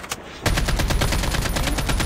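Rapid automatic gunfire rattles out in a Call of Duty Mobile match, with a quick, even stream of loud shots that starts abruptly after a brief quiet moment and continues without pause.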